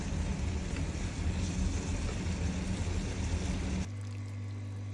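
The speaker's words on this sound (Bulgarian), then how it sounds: "Задушавам в тази мазнинка хубава малко зеленчето и наливам бульона да се вари." Broth is poured into a pan of stewed vegetables, giving a steady, close liquid rush and sizzle for nearly four seconds before it drops to a quieter low hum.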